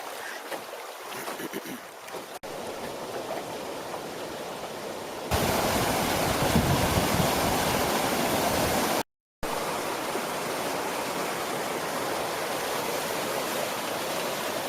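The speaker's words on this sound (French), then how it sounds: "Décidément, autour de cette grosse ferme, il y a 3 petites chutes, c'est sympa." Small waterfall on the Grand-Morin river heard from a canoe, a steady broadband rush of falling water that grows louder and fuller partway through and continues without a break.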